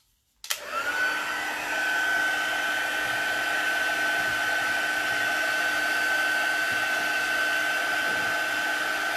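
A hot-air embossing heat tool blows steadily across a gift bag being embossed, switching on abruptly and then holding a loud, even whine with a constant high tone, close by and uninterrupted, with no one speaking.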